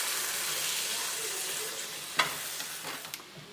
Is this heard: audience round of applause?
no